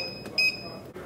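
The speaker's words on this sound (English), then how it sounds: "350 degrees, set a 40 minute timer." An oven's electronic timer gives a short, clear beep while a 40-minute time is set at 350 degrees, over a thin steady tone and quiet kitchen room noise.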